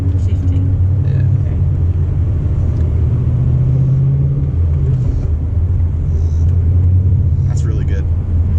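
A Ford Mustang Bullitt GT with a manual gearbox drives along, its engine a steady low rumble that rises and eases with shifting, while people talk over it.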